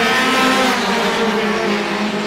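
Roadrunner race cars at Star Speedway pulling away on a green-flag restart, a loud, dense pack of engines droning together at steady revs with a faint tire squeal.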